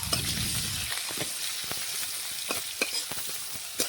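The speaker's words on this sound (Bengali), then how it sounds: "পেঁয়াজটা একটু নাড়াচাড়া করে ভেজে নেব।" Chopped onions fry in oil with five-spice and whole cumin. A quiet, close sizzle is broken by soft scraping stirs and small pops, with a brief rustle at the very start.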